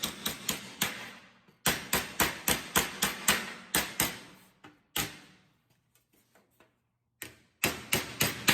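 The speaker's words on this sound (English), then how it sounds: "when I'm using the hammer blows, I'm not going straight down, I'm glancing it like this" Sharp metallic hammer strikes ring out in quick glancing blows shaping sheet metal for a square-body Chevy truck bed, in bursts of several blows, pausing briefly between runs, loud and close.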